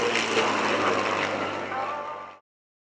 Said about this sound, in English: the United States Air Force's F-22 Raptor, piloted by Major Dickinson